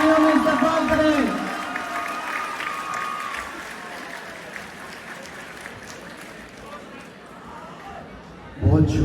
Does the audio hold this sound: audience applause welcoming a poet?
yes